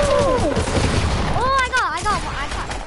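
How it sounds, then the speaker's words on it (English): A burst of sniper-rifle gunfire in a video game, loud and dense, with whistling, sweeping tones and a player talking over it. "I'm trying to snipe someone."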